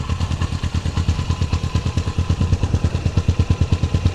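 A motorcycle engine idles nearby with a fast, steady thumping pulse, loud and even throughout with no talking over it.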